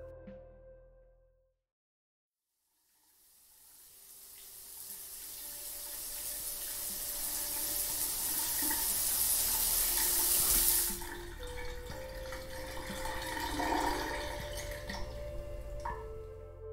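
Running shower water hisses steadily after a brief silence, swelling loud and close, then easing to a softer splash with faint drips and knocks near the end.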